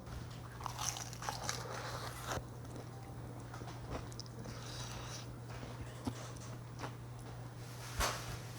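Close, crisp bites into crunchy fried chicken wings glazed in soy sauce, with repeated crackling crunches and chewing over a low steady hum, no talking.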